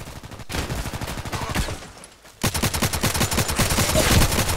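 Rapid bursts of gunfire from the Contract Wars shooter game, dense repeated shots in two loud stretches separated by a brief lull, with no talking.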